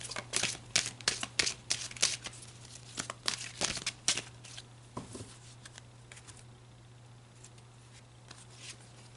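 Tarot cards are shuffled by hand in a quick run of soft riffling flutters and paper slaps, then the shuffling stops and one or two faint card draws follow against a steady low hum.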